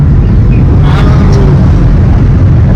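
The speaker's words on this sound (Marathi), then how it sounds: "तुम्ही बघू शकता ओम भाऊ कशी गाडी चालवतोय." A car is driven along a road, heard from inside as a loud, steady low rumble of engine and road noise, with a faint brief tone partway through.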